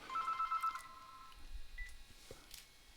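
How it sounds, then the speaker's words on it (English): A telephone rings with a short burst of rapid trilling electronic tone, fairly close, then falls silent amid faint room noise and a few soft clicks. "I got a phone call"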